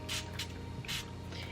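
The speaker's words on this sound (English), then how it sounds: "So I'm just taking a setting spray." Setting spray misted from a pump bottle onto brow soap, three or four short close hissing spritzes in quick succession over a faint low hum.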